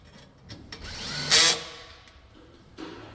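A power tool tightens hardware on an AC condenser during a DIY unit swap, giving one loud burst of about a quarter second in the middle, with quieter handling noises before and after.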